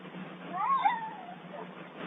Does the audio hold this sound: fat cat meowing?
yes